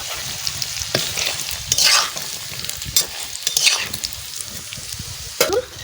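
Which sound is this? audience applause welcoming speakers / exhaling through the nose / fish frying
fish frying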